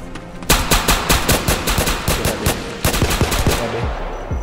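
Rapid bursts of Glock pistol fire in a Roblox South Bronx hood game, a dense string of loud, close shots running nearly continuously with a brief pause partway through.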